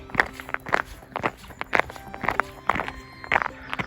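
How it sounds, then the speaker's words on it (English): Footsteps of small shoes walking on a hard surface indoors, a steady rhythmic series of crisp clicking steps heard close and clear with no talking. "You can really hear me making a noise now with my little shoes."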